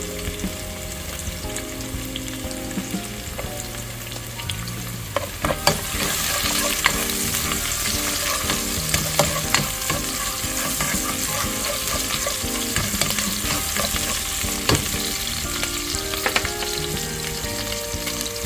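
Chopped onion followed by garlic sautéing in hot cooking oil in a home kitchen, a steady loud sizzle that swells around five seconds in, with a utensil scraping and stirring throughout.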